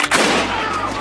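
A single loud gunshot in a rap music video: a sharp, close crack at the start that leaves a sustained rumbling boom ringing out for about a second, with no talk.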